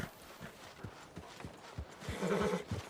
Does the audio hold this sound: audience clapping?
no